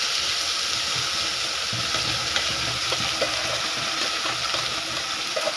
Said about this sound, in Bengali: এইভাবে আমি লাউয়ের খোসাটাকে ভালো করে ভেজে নেব